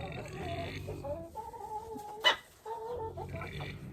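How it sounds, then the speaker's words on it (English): A backyard flock of roosters and hens clucks and murmurs steadily and fairly close, with a brief sharper squawk partway through and no talking. "3 of them are roosters and 3 of them are hens."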